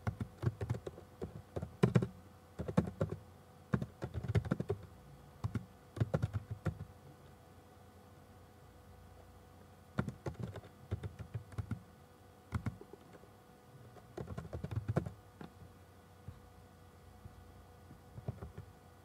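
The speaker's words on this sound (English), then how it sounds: "Keep typing and pressing Tab until all the header rows contain values." Typing on a computer keyboard while entering spreadsheet header values, with bursts of close, quick key clicks and brief pauses between runs of keystrokes.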